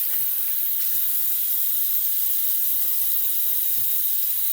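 Tap water runs steadily while a razor is rinsed during a wet shave, a soft continuous hiss with faint clinks and splashes, close by, with no talking.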